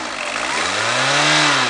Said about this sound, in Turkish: Sen bir arabayı çalıştır kanka. Gaz versene biraz.